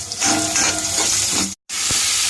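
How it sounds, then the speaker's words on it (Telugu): Chopped onions and green chillies fry in a pan for pumpkin pulusu, giving a loud, close, continuous sizzle with stirring scrapes, cut by a brief silent gap before the frying resumes. "ఉల్లిపాయ, పచ్చిమిరపకాయ వేసి ఇలా వేయిస్తున్నామండి"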